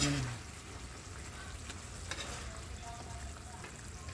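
Sweet and sour spicy chicken fries in a pan: a soft, steady sizzle with faint crackles and an occasional stirring scrape, low and continuous.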